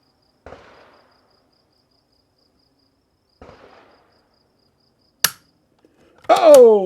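Semi-automatic .22 rifle firing Norma TAC-22 subsonic rounds outdoors: two soft, muffled reports a few seconds apart, then a sharper crack followed by a brief rising whine-like tail.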